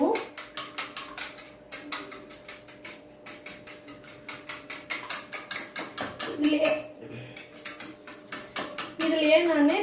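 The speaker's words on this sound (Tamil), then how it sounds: "முட்டை வந்து நான் ஃபஸ்ட்டு விஸ்க் பண்ணிக்கிறேன்" Eggs whisked in a bowl for a fish fry marinade: a fast, even run of close metallic clicks and taps against the bowl, steady for nearly ten seconds with a brief louder clatter near the end.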